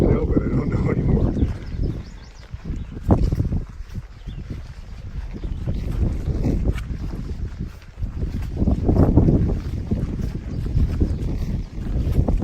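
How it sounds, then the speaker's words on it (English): Wind on a mountain trail near the Smokies, heavy gusting microphone buffeting that rises and falls in waves, with someone talking under it. "Be a little bit windy"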